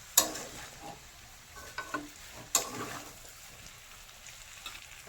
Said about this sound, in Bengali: এবারে মাশরুমটা অ্যাড করে দিচ্ছি